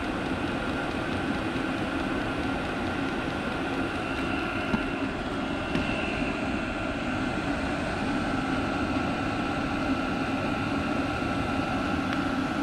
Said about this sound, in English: Maybe the older versions had a loud pump, but this pump is pretty dang quiet. Then again, it could be half deaf too. The loudest part to me is the fan motor.